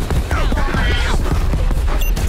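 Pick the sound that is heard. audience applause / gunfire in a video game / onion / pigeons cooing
gunfire in a video game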